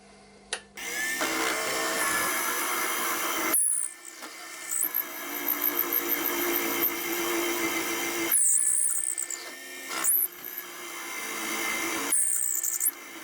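A drill bores into wood on a lathe, making a goblet, with a loud whining grind, running in several long bursts separated by short pauses.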